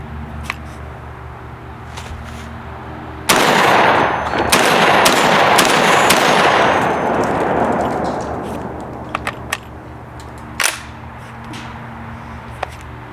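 A Panzer Arms Benelli-style 12 gauge shotgun in zirconium fires a single loud, close blast of number 8 birdshot, followed by a long decaying roar, with a few faint clicks and knocks after.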